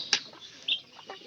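Chickens on a small Bangladeshi farm give a few short, sharp clucks and chirps, close and fairly quiet, with no talking.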